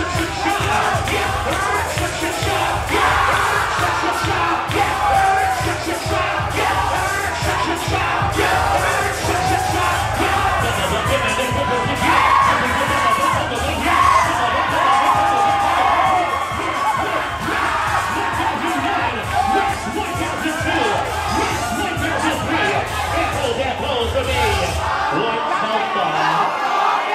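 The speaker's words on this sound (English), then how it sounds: "But give this beautiful round of applause." An audience at a ballroom performance, a Class of '22 ball, cheers, yells and whoops loudly and continuously for nearly the whole stretch before the noise cuts off abruptly near the end.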